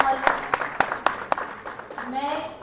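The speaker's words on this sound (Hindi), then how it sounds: "एक बार जोरदार तालियां।" An audience at a Delhi event applauds, starting with a few sharp, separate claps at steady intervals that then blur into a softer patter as the clapping fades.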